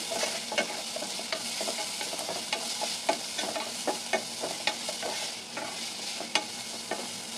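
Onions and curry leaves frying in a pan for crispy aloo bonda, a steady close sizzle broken by regular spatula scrapes and taps as the mixture is stirred.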